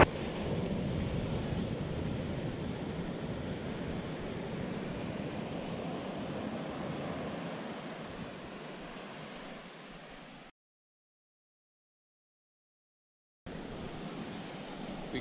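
Ocean surf at Matador Beach rumbles as a steady, broad wash of waves with some wind noise. It fades gradually, drops out into a few seconds of silence, then returns.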